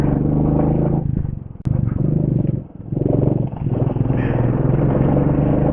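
A motorbike on a Kolkata to Siliguri ride passes through the Baharampur toll plaza, its engine thrumming loudly and close with heavy wind rush, briefly easing off twice before picking back up.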